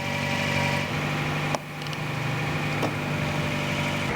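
A car engine idling steadily after a high flow turbo install, a close, even hum with a faint whine, interrupted by one brief click partway through.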